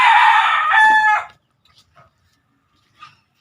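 A rooster on a small backyard farm gives one loud, close crow that trails off after about a second, followed by faint distant clucks and bird calls.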